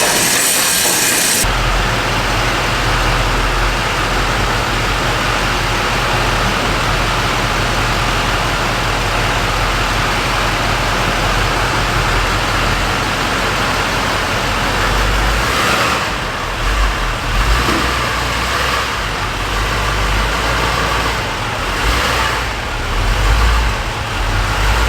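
A truck is driven and maneuvered into a warehouse. A loud, continuous engine rumble carries throughout, with some shifts and surges near the end as it is worked into position.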